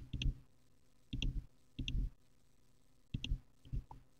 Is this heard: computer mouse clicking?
yes